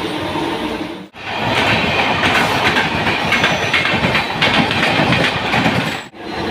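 Howrah to Digha local train running between stations, a loud, close, continuous rumble of wheels and carriages with clattering rail noise, briefly dipping twice as it passes joints or structures.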